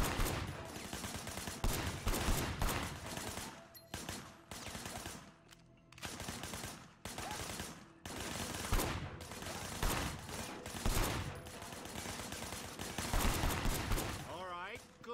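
Rapid bursts of machine-gun and pistol fire in the video game Sleeping Dogs, repeated loud volleys separated by brief pauses, close and punchy throughout with occasional voices mixed in.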